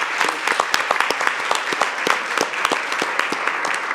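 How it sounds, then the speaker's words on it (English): Audience applause at a conference on zero-emission heavy-duty vehicles: dense, steady clapping from a room of people, loud and continuous with sharp individual claps standing out, no speech over it. "A round of applause."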